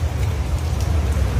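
Heavy downpour of rain at a race track, a steady dense hiss of rainfall with a strong low rumble, continuous and fairly loud with no talk.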